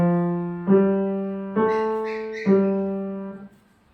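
Three sustained piano notes struck one after another at an even pace, each ringing clearly and fading, with the last note decaying into silence.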